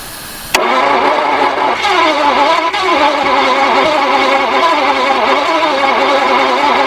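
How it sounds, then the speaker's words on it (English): A Jaguar/Daimler Mk2 2.5 V8 engine, previously seized, cranks and catches after a brief pause, then runs with a loud, continuous rumble that holds steady to the end. "Alright, just keep it cranking."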